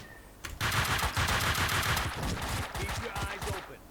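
Rapid bursts of gunfire crack and rattle through a shootout in the video game Max Payne 2, dense overlapping shots and automatic fire continuing loudly and steadily for several seconds after a short quiet start.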